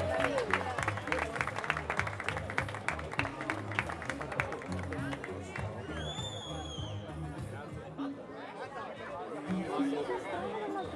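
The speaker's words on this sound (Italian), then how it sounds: "un applauso per loro, grazie" Audience applause and clapping at an award ceremony for a youth football tournament, steady and sustained over crowd chatter, with a few whistles partway through.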